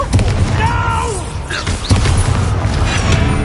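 Confringo explosive spell blasts in Hogwarts Legacy, heavy booming bursts with crackling debris over a dense, constant rumble of game action, with a short voice in the mix.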